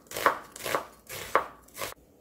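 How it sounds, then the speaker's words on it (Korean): Half an onion being chopped with a knife on a board, four firm, evenly spaced cuts close up and clear, with no talking. "양파 반 개를 썰어주세요."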